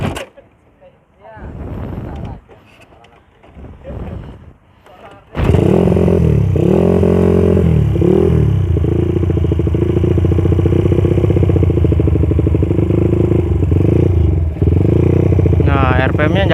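Suzuki Satria FU motorcycle fitted with full Racingboy parts revs hard and continuously up close, a loud sustained engine roar with rising and falling pitch, after a few seconds of quieter talk.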